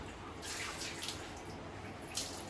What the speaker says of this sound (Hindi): थोड़ा और पानी डालो ना उसमें